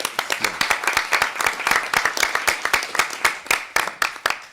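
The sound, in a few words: audience applause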